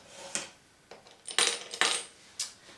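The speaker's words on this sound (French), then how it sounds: "dans ma tirelire, je mets 6 jetons" Six plastic tokens dropped into a piggy bank during a counting game: several light, close clinks and clatters, spaced irregularly over a few seconds, with no talking.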